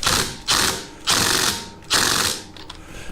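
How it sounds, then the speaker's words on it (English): An impact wrench tightens a pulley bolt on a John Deere GT/GX 255 mower in four loud, close hammering bursts, each about half a second long and separated by short pauses. "another option here is you can get a good impact wrench on here"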